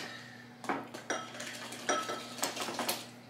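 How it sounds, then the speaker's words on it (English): Banana bread batter being mixed by hand in a bowl, a utensil clinking and scraping against the sides in several uneven strokes, close and moderately loud with no voices. "Now we got to mix it."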